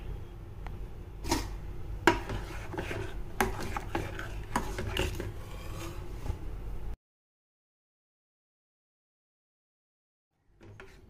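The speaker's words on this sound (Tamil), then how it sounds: "இது நல்லா திக்காகிற வரைக்கும் நம்ம கிளறி விடணும்." A spoon scraping and stirring a thickening chocolate biscuit ice cream mixture in a pan, with quiet, irregular rasping strokes for several seconds before it goes silent.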